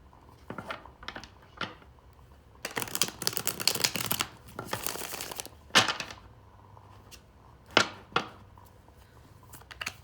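Tarot cards being shuffled by hand in quick bursts of riffling and slapping, close and crisp, separated by short pauses, with no talking.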